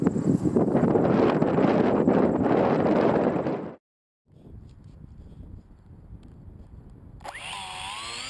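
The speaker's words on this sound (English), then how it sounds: "It is pretty windy today" Strong gusts of wind buffet the microphone outdoors during a windy drone test flight, roaring steadily, dropping out briefly, then returning more softly as a high whining drone motor rises near the end.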